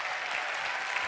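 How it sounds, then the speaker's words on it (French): Audience at a regional science-communication final applauds a researcher, a brief, even wash of dense clapping from a crowd. "On l'applaudit une nouvelle fois."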